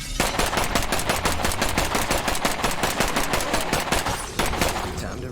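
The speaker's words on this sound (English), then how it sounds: "I can shoot this one through the window." Rapid, steady video-game gunfire from a shooter battling plague guards, a dense run of loud shots firing back to back for several seconds with only a brief break near the end, no talking over it.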